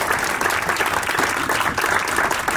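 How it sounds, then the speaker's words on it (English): A room full of people applauds a presenter at a pipe show, a dense, sustained burst of clapping at close range that stays loud and even for the whole stretch, with no speech over it. "Everyone, applause for Linwood Hines."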